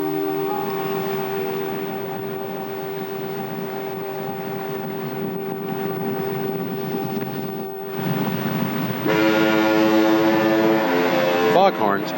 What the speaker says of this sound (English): Foghorns at the Nootka Light Station announced the afternoon fog bank.